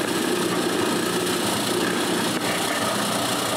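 A power drill bores mounting holes in wood for a homemade wooden bandsaw, a steady, loud, high whine running without a break.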